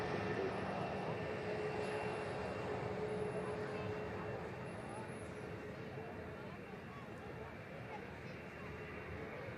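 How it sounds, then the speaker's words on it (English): An Egypt Air airliner taxis past at Manchester Airport, its steady broad jet rumble and whine holding at an even level throughout, with people talking over it. "And the beautiful Egypt Air taxiing past."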